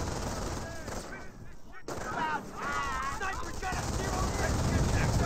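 Machine gun fire and other gunfire crackle in a Company of Heroes 1 multiplayer battle as rifleman squads engage an MP42. The shooting sounds mid-distance, mixed with explosions, while someone commentates over it.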